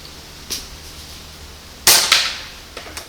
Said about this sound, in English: I'm going to start shooting at the chestnuts now.